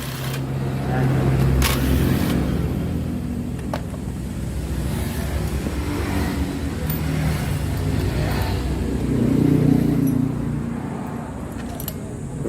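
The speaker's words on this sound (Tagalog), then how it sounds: "Ayaw magtuloy ang kanyang starter." A Rusi Gala 125 motorcycle's starter cranks in close, repeated whirring bursts with a new battery fitted, but the engine never catches and runs.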